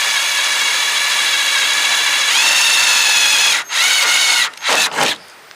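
A power drill with a 13/64 bit whines steadily at high speed while drilling a second layer for a spoiler on a Subaru WRX, its pitch shifting slightly under load, then stops and restarts in a few short bursts before winding down.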